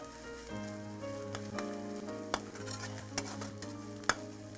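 Onions sautéing in a pan for Kongu-style chicken gravy, a quiet steady sizzle under a sustained tonal hum, with a few sharp clinks of stirring scattered across the stretch; no one speaks.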